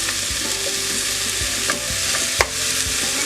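Brussels sprouts hit a hot pan and sizzle steadily, with scattered pops and stirring scrapes close by, and no voices.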